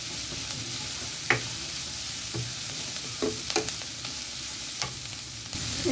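Vegetables seasoned with salt, black pepper and green chillies fry in a pan for chicken Russian cutlet kababs, a constant sizzle broken by occasional scraping stirs of a spoon.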